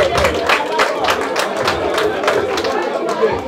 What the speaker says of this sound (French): Mais applaudissez pour moi